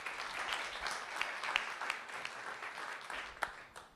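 An audience at an Empire Club of Canada housing market panel applauds the panelists and moderator, a moderately distant burst of many hands clapping that gradually thins out over several seconds.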